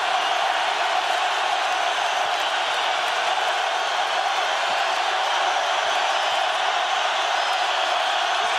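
Basketball arena crowd roaring steadily at a college game's finish, a dense, loud, continuous wash of cheering with no pauses throughout.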